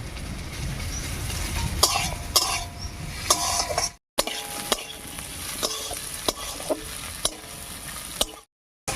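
Onion, garlic and green chili fry in a pan for a taro-leaf mash, giving a steady sizzle under frequent scraping stirs and clicks of the utensil, with two brief silent cuts.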